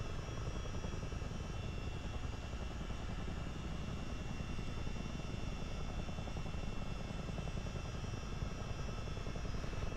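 Helicopter add-on in Microsoft Flight Simulator 2024, a steady loud rotor and turbine drone filling the whole stretch with a constant thrumming beat, no talk over it.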